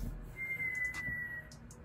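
A person gives one short, thin whistle, fairly steady and faint, with soft background noise and no talking.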